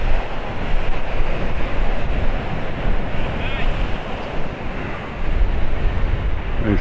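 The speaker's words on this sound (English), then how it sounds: "Catch a few of the waves first." Heavy sea waves crash and churn along the Paphos seafront in a March gale, a loud continuous roar of surf mixed with buffeting wind gusts against the microphone.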